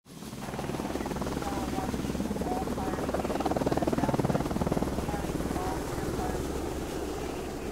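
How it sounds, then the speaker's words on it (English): Firefighting helicopter with a steady rotor drone and rapid blade chop, close and continuous throughout, under a children's game soundtrack. "Firefighting helicopter."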